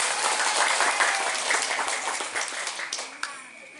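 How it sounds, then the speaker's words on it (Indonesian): A crowd at an Islamic sermon in a village claps for the women, brisk many-handed applause that stays fairly loud, then tapers off with a few last claps near the end. "Tepuk tangan kanggo wong wadon."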